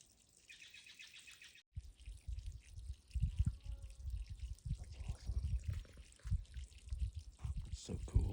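A robin bathing in water at a spring, with irregular splashing, dripping and trickling that grows busier after a brief gap; a faint bird chirp comes early, and quiet voices appear in the background.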